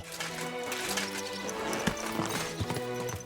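Horse hooves in the medieval video game Kingdom Come Deliverance 2, a busy clip-clop of steps over layered game ambience and music, fairly loud and continuous.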